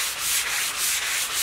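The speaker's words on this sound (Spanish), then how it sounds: "Lo que hacemos es pasar a la lija y lijamos" Sandpaper rubs back and forth along the grain of old wooden furniture being stripped of lacquer, a loud, steady scratchy hiss pulsing in regular strokes.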